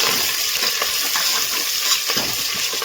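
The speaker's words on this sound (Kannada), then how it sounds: "ಈಗ ಮಿಕ್ಸ್ ಮಾಡ್ಕೊಳ್ಳೋಣ" Tempering with mustard seeds, cumin, onion and curry leaves is stirred in a hot pan for sambar, a continuous loud sizzle broken by soft scraping strokes of the spoon.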